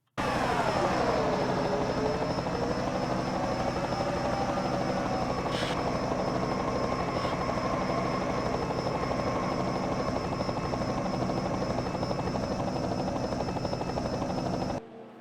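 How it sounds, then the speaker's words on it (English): A helicopter camera view of a stock car race in a racing video game carries a steady engine drone that slides down in pitch at the start, then holds constant and loud before cutting off near the end. "This caution flag is going to be brought out by contact between the 50 of Canny May and the 999 of Deviant from the helicopter camera"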